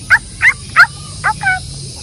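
A person imitating a dog with five short, sharp barking yelps in a quick irregular rhythm, close and fairly loud, over faint background hum.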